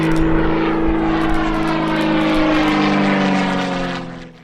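A GameBird aerobatic propeller aircraft drones steadily with a loud, sustained engine-and-prop tone, nearby and alone, fading slightly at the very end.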